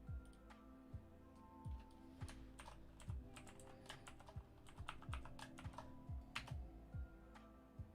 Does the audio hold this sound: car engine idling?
no